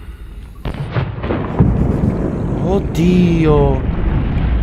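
Explosions in the Subnautica video game, booming low rumbles with rising tonal warbles and swells, loud and close, with a voice briefly exclaiming over them.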